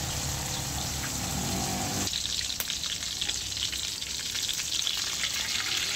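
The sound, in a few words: salmon frying in oil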